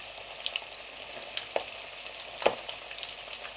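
Chicken pieces coated in cornflour fry in hot ghee with a steady, close sizzle, broken by a few sharper pops and crackles.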